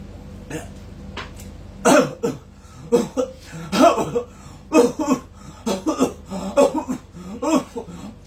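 A series of short, dry coughs and throat-clearing bursts repeats irregularly, close and fairly loud, with brief pauses between.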